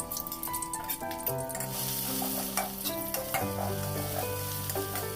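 Pounded dried-chili curry paste stir-frying in hot oil from canned fish, a loud continuous sizzle and crackle up close with scraping stirs, over a background of sustained music tones, no voices.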